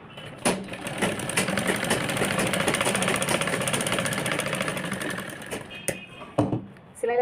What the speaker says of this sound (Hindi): तो हम यहाँ पे इस तरह से एक साइड सिलाई लगा लेंगे